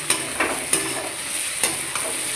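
A spatula stirs soaked sago through fried vegetables in a hot pan, giving a sizzling bed with several sharp scraping strokes at an uneven rhythm, close and clear without talk.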